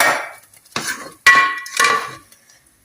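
Cooked lentils being added to a pan of softened tomatoes for Udupi-style avalakki bisibelebath: a few separate bursts of scraping, clinking and wet sloshing from a spoon against the pan, with brief silences between them.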